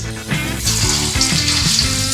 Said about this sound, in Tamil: இப்போ வந்து எண்ணெயில் போட்டு பொரிச்சு எடுக்க போகிறோம்